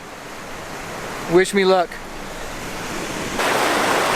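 Water flows around a tripod planted in a stream during a waterfall landscape shoot, a steady broadband rush that swells louder near the end, with a brief spoken phrase over it.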